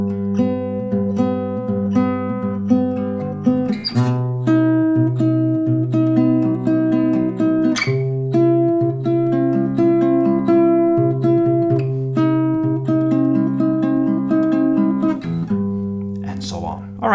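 Acoustic guitar strums the chords of a song in a steady rhythmic pattern, close and clear, moving through the progression with one round per chord and no voices.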